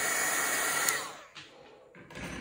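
A hair dryer blows steadily and loudly over a painting being dried, then its roar drops away and returns in short bursts near the end.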